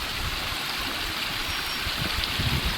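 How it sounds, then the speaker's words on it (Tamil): Water runs steadily down a channel in the hills of Valparai, a continuous broadband rush that stays loud and even throughout, with no voices over it. "பாருங்கள் மேலேருந்து ஓடுது பாருங்கள், மேலேருந்து வரும் கொஞ்சம் கரெக்டாக தண்ணி வரும்"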